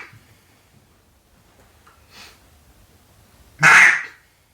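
A single loud, close duck call quack blown on an orange burl wood call near the end, after a softer brief call earlier and otherwise quiet room.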